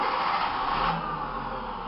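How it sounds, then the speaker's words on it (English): A car engine is started by push-button with an aftermarket Android keyless system, giving a broad, close rumble that surges and then settles into a steadier running hum. No one speaks. "Now in order to start the engine, I just have to push this big red button saying start."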